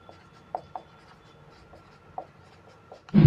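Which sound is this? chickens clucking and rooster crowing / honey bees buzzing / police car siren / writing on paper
writing on paper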